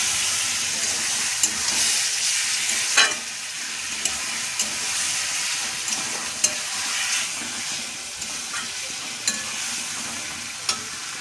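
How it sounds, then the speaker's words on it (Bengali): Meat stirs and fries in a kadai, a constant sizzle broken by repeated scraping clinks of the spoon against the pan at an irregular pace, with no talking. "তিনটে দিয়ে একটুখানি নাড়িয়ে নিচ্ছে যেন ভালো হয় মাংসটা।"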